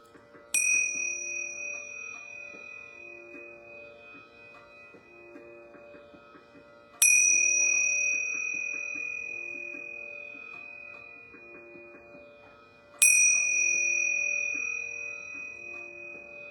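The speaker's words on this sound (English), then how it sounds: "I'm going to ring these yoga bells 3 times." Yoga bells rung three times at evenly spaced intervals, each bright strike ringing out and slowly decaying over a soft, steady ambient background.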